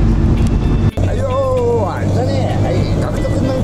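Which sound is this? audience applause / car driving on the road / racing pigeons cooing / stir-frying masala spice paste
car driving on the road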